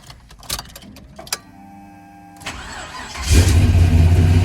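A 1972 El Camino with an LS swap engine cranks over with a few sharp starter bursts, then catches and settles into a loud, steady, smooth running idle close by.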